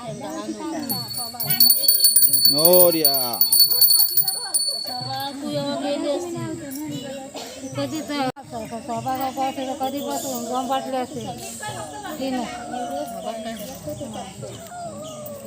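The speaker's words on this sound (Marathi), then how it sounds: "घंटी वाजव" A hand bell is rung during a Gauri puja in Devgad, Konkan: a bright, high metallic ringing that is strongest early on and continues faintly beneath steady close conversation.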